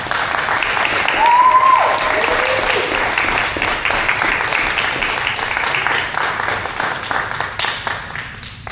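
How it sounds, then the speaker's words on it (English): An audience applauds a cohort at a closing-talks event, loud continuous clapping with a brief whistle or cheer early on, gradually thinning into individual claps toward the end. "please give them a round of applause."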